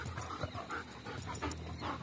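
German Shepherd dog panting close by, quick soft rhythmic breaths repeating steadily, fairly quiet and with no voices over it.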